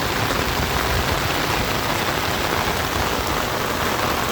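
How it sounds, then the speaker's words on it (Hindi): Heavy rain pours down continuously, a dense, even hiss of drops hitting surfaces close by with no break or voices. "2 घंटे से कंटिन्यूसली बारिश आ रही है।"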